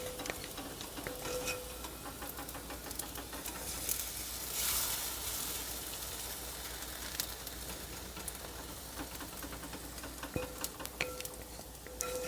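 One large vegan pancake frying in a pan, with a quiet, continuous sizzle close by and occasional light ticks and taps, and no talking.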